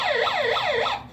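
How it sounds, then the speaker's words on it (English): A small wind-up emergency radio flashlight blares its electronic siren close up, three rapid rising-and-falling wails repeating evenly before it cuts off. "Has a heck of a siren on it."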